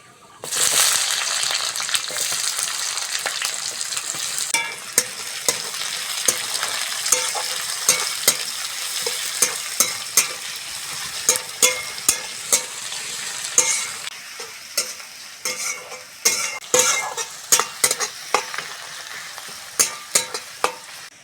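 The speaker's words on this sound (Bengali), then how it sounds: "এবার বন্ধুরা পেঁয়াজটা দিয়ে দেবো।" Onions frying in mustard oil in a wok while a spatula stirs them, giving a constant close sizzle broken by frequent sharp scrapes and clacks that grow busier toward the end, with no talking.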